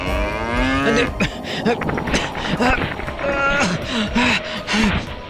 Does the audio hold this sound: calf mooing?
yes